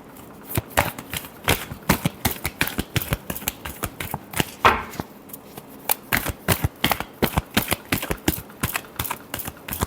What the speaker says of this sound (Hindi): चलिए लास्ट शफल।